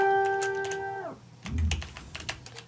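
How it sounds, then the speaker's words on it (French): Typing on a computer keyboard, a run of quick, uneven clicks after a steady tone fades, with a dull low thump partway through, heard close and fairly quiet. "En repensant à Michel, à taper sur son clavier et à réajuster pour que ce soit vraiment parfait"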